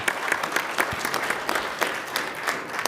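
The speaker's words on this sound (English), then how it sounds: "let's give a round of applause for our men's soccer team" Brisk crowd applause at a PCC governing board meeting for the men's soccer team, many hands clapping in a steady, fairly close patter with no talk over it.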